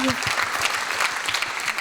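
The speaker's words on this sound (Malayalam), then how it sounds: "നല്ലൊരു കൈയടി പ്ലീസ്" A crowd claps steadily and warmly throughout, with a short voice heard at the very start.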